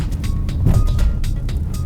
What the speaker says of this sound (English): And that was a pothole.